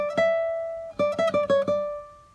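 Solo guitar playing a phrase of the Nicaraguan folk tune Balada Campestre: one sustained ringing note followed by a quick run of five plucked notes, clear and close.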